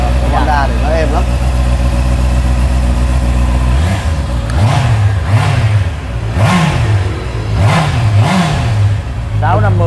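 A Honda motorcycle engine idles and then revs in short repeated bursts, the pitch rising and falling close by, while people talk over it at a motorcycle shop.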